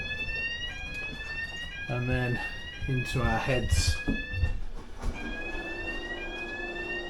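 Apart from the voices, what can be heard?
alarm going off on a yacht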